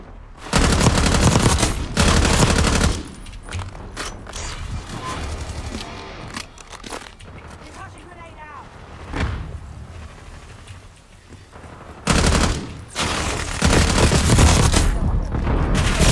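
Bursts of video game gunfire, loud broadband volleys near the start and again near the end with quieter stretches and some talking between.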